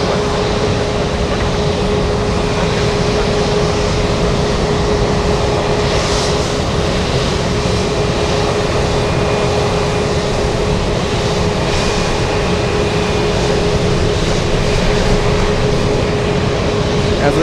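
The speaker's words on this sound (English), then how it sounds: "Going to the big 747-8" A Boeing 747-8 jet at Anchorage airport produces a loud, steady engine roar with a sustained whine that holds throughout, with a voice talking faintly underneath.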